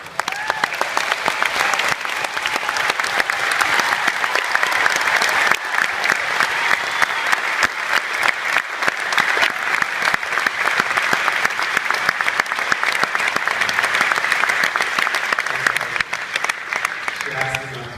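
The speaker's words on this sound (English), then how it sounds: "I really like everyone to give a round of applause to my wife" An audience at a private film premiere applauds steadily and loudly, a dense wash of clapping that holds for the full stretch and tapers slightly near the end.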